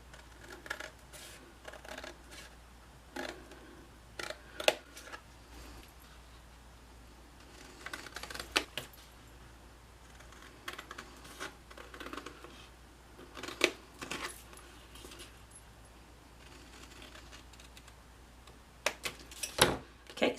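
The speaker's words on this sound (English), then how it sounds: "you're going to cut on the 2 1/4 and the 6 1/4 inch score line up to this diagonal line" Scissors cut cardstock along scored lines for a pop-up panel card, giving soft, intermittent snips and paper rustles at moderate, close range with no talk.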